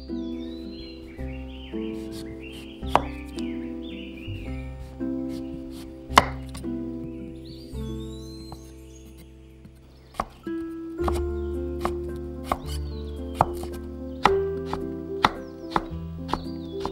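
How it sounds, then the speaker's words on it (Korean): Knife chopping namul vegetables on a cutting board, trimmed greens for a Korean full-moon holiday side dish: a steady series of sharp, close knocks with some louder strikes, alongside faint chirping in the background. "나물의 질긴 부분을 정리하고 먹기 좋은 크기로 썰어"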